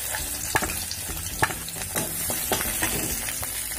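Chopped garlic frying in about two tablespoons of refined oil in a kadai: a steady close sizzle with repeated sharp spatula scrapes and taps against the pan, no voices.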